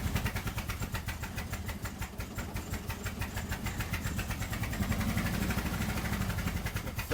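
A Triumph Spitfire engine idles roughly and unevenly up close, its pulsing beat wavering as the throttle is pumped to keep it from stalling. It runs on steadily without any talking.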